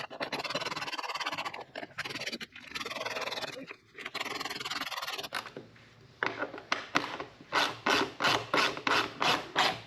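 Bolts on the backing plate of a Kawasaki Ultra jet ski racing sponson being turned by hand tool, first a steady rubbing, rasping scrape, then a quick run of rhythmic ratchet-like clicking bursts, close and fairly loud.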